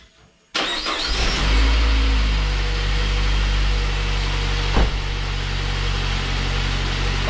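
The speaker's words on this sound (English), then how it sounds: "I'm gonna turn it on, let it idle, and then we'll bring it out." A 2008 Saab 9-5 with its oil pan removed cranks and fires after a brief silence, then settles into a steady, loud, close idle with one short knock partway through.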